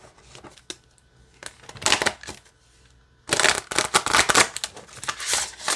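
Papery riffling and crisp flicking of a large Star Wars affirmation card deck being shuffled come in two bursts, a shorter one early and a longer, louder stretch after a pause, close up with no voices.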